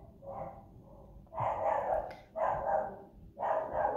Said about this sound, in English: the dog in the background